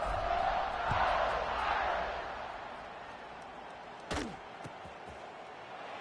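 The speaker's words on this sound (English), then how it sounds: "this crowd is buzzing after that last score" A football stadium crowd during Notre Dame versus Florida roars after a score, a broad, loud murmur that swells and then eases into a lower buzz, with a sharp thud near the end.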